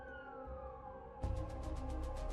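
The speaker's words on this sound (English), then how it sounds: "As they sped towards the hospital, for the first time in her life, Carmen worried about losing her husband." An ambulance siren wails and cycles, fading in softly at first and then jumping to a louder, nearer rising-and-falling pattern, with no voices.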